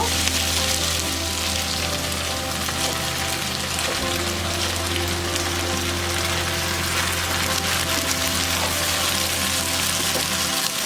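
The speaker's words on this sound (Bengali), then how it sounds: "সবজিগুলো ভাজা হয়ে গিয়েছে। এর মধ্যে এখন আমি রাইসটা আস্তে আস্তে দিয়ে দিব।" Vegetables and rice for chicken vegetable fried rice stir-fry in a pan, making a continuous, even sizzling hiss over a steady low hum, close and fairly loud throughout.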